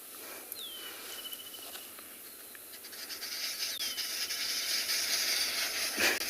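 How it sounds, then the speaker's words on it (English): Arrow-marked babblers calling in the distance on a South African safari, thin chattering whistles and rising calls scattered over a steady hiss of insects and ambient bush noise. "I think it's the arrow-marked babbler."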